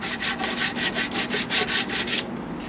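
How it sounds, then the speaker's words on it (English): Sandpaper scrubbed by hand to sand a surface flat during jacuzzi replumbing, about ten rhythmic back-and-forth strokes, close and steady, ending with a quieter pause. "And sand it all flat."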